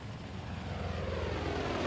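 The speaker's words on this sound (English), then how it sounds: "Is the plane just crashing to the floor?" A steady airplane drone from Far Cry 5, a plane going down after the player jumps out with a wingsuit, a continuous rumbling engine roar that grows slightly louder, with no talk.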